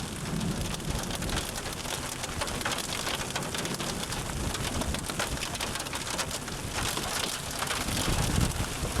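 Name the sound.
rain and wind in a tornado storm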